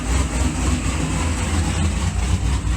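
A supercharged C6 Corvette engine with a loud exhaust runs as a steady, deep, close rumble without a break.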